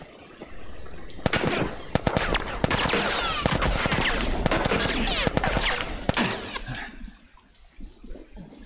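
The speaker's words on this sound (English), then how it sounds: "How's he shooting us way over there?" Enemy gunfire in The Last of Us crackles in rapid bursts of sharp, loud shots, dense volleys that fade into a quieter tail near the end.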